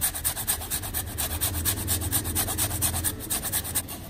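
A medium carrot is finely grated in quick, rhythmic rasping strokes, each a short scratchy rub against the grater, close and steady with no voices.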